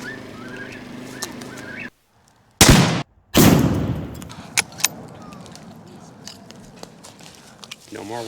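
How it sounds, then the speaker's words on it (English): Two loud, close gunshots crack out in quick succession at a campsite at night, aimed at a noisy whippoorwill, followed by quieter clicks and rustling with people talking. "Brittany, go get the gun."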